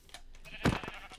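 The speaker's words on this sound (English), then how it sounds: "let's try to grab the sheep" A single sheep bleat from the Minecraft video game, a short wavering cry rising over a quiet, steady game background with no talking.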